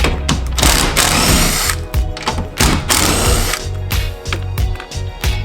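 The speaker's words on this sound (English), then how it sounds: "Get our impact with our 11mm socket." An impact wrench with an 11mm socket rattles out the mirror bolts on a 2014 Ford F-150 in loud, close, choppy bursts with short pauses between them.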